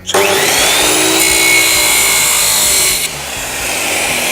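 A cut-off saw with a small abrasive wheel slices along a marked line while a roller stand is being built. The shrill, steady grinding whine is loud and close, shifts in tone briefly near the end and runs without talk.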